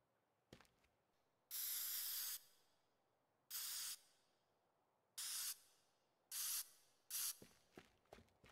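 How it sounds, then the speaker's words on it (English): Spray can hissing out graffiti paint in the video game Teardown, five separate loud bursts of about half a second to a second each, with faint clicks and rattles between them. "All right, spray can."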